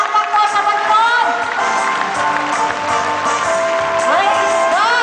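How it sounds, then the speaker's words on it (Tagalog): A congregation applauds to welcome a reverend and his wife at a Foursquare church gathering in Pangasinan, with loud, dense clapping and crowd noise filling the space while a voice and some whistling tones rise over it. "Palakpak po sa Panginoon!"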